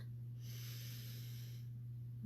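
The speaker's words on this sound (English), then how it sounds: "Deep breath in." A single slow, deep inhale drawn through the nose and mouth, airy and steady, heard close and alone as part of a five-finger breathing exercise in a school mindfulness session.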